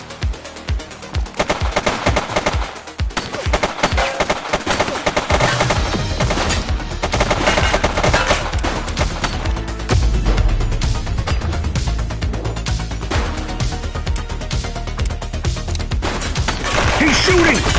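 Sustained rapid gunfire from the police video game The Precinct, dense overlapping bursts of automatic shots that stay loud and continuous throughout.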